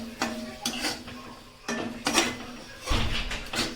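A utensil scrapes and clinks against a pan while masala is stirred for a spicy batata sandwich filling, in three short bursts of metallic scraping with small pauses between them.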